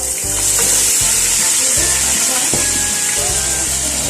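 Onions sizzle loudly in hot oil in a pan while cooking Arabian shrimp mahjboos, a steady close crackling hiss with a rhythmic scraping and stirring knock running underneath.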